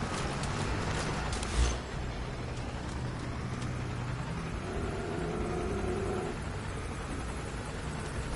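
A helicopter in a video game flies a circling path, its steady rotor drone holding at a moderate distance through the whole stretch with a brief thump partway in.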